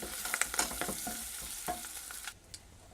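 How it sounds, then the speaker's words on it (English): Shrimp shells sizzle in oil over high heat with cayenne and paprika as they are stirred in a pan in a catamaran galley. Close, crackling frying with quick scraping strokes fades to a quieter hiss near the end. "This is on a high heat until we get these shells nice and pink."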